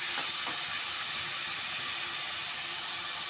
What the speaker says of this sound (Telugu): ఆనియన్ పేస్ట్ బాగా ఫ్రై అవ్వాలన్నమాట.